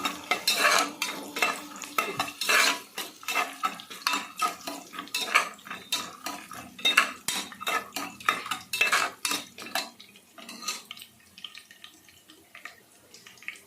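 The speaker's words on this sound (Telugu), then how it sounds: "అల్లం వేపుకోవాలి ఫస్ట్ అల్లం వేపుకుంటే బాగుంటుంది" Ginger and peanuts frying in a pressure cooker for wheat rava upma, with repeated close metal spoon scrapes and clinks against the pot over a faint sizzle, the stirring dying down toward the end.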